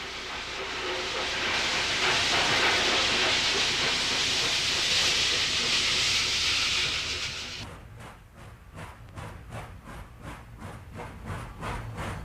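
A Norfolk and Western Class S1A 0-8-0 steam switcher working around the Bluefield yards lets out a loud, sustained hiss of steam, then falls into a quicker run of rhythmic chuffs.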